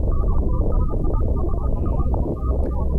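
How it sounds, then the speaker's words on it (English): Two years of wind data sped up into about 12 seconds of sound: low, droning tones rumble and throb continuously, a deep murky hum with little brightness, steady in loudness throughout. "This is 2 years' worth of wind data sped up to about 12 seconds."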